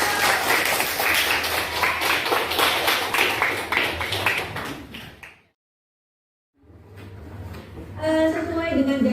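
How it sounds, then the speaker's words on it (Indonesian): Group applause at a school gathering, dense clapping for about five seconds that cuts to silence, then resumes with room noise and voices. "tepuk tangan untuk kita semua"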